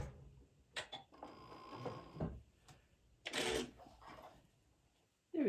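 Home sewing machine stitching a quilted placemat, starting and stopping in short whirring bursts with quiet pauses in between, close and fairly soft.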